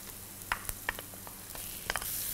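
Shrimp stir-fry with onion in a hot pan, sizzling steadily while a utensil scrapes and taps against the pan in irregular clicks, close and moderately quiet.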